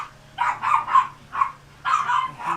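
A dog barks in five quick close-up yaps, each short and bright, with brief gaps between them.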